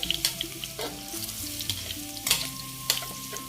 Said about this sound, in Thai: น้ำมันร้อนเจียวกระเทียมครับเจียวกระเทียม